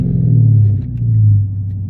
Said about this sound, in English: That is a beautiful V8 engine sound